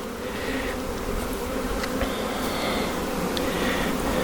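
Honeybees hum in a dense, continuous buzz around hive frames during an inspection, close and steady throughout with no talking.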